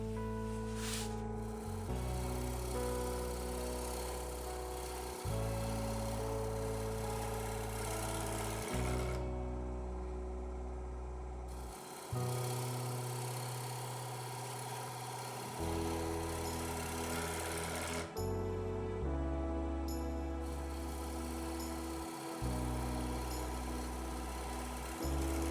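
A wood lathe turning a pentagon-shaped wooden bowl during fine finishing cuts, a steady humming motor drone with shifting pitch, interrupted by brief pauses and restarts, close and loud with no talk.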